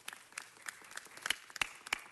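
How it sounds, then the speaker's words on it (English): Scattered applause from an audience at a city council meeting for an honoree, with individual sharp claps standing out, a few louder ones near the end, over a quiet room. "Let's give her a round of applause"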